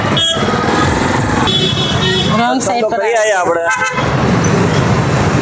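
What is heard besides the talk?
heavy street traffic with bikes and horns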